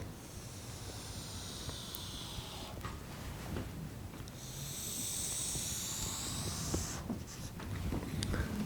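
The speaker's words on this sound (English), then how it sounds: "Next, we can draw the graph." A pen scratches steadily across paper while drawing a voltage graph, making long, close, hissing strokes with brief pauses and a few sharper taps.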